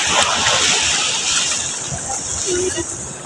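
River water splashes and sloshes steadily close by, a broad continuous wash of churning water with voices talking over it.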